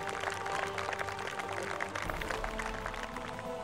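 Applause from a crowd for the champion at a Trilby Tour golf championship at Tudor Park, Kent: a dense, continuous clatter of clapping at steady loudness, heard close and alone.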